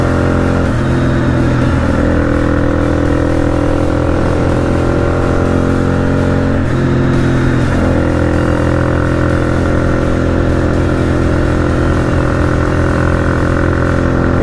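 A motorcycle pulls away on a cold early-spring ride, its engine close and loud with a steady drone that rises as it revs and shifts up through the gears.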